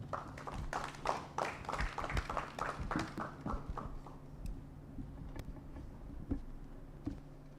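Scattered audience applause at a project launch, a run of brisk claps for about four seconds that thins out into a few faint isolated claps in a quiet room.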